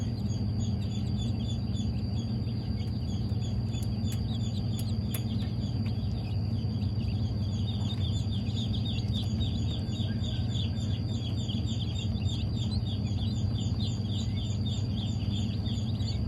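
Dense, continuous high-pitched peeping from many ducklings and chicks, steady throughout over a low background hum.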